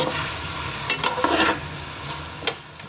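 Mutton and potato curry fries with spices in a pot. A soft, continuous sizzle runs under a few scraping stirs of a spoon, and no one speaks.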